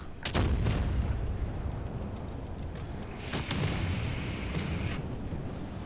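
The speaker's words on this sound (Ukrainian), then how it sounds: "Ага, зараз буде постріл. Бронебійний." A tank cannon in a video game fires an armor-piercing shell, a sharp loud boom at the start followed by a second blast and a long hissing, ringing tail; no voices.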